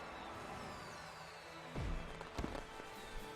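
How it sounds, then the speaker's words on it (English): Pokémon Sword & Shield fireworks go off during a champion celebration. Two or three soft, muffled pops and bursts sound over steady game music, with no talk. "And a beautiful fireworks display."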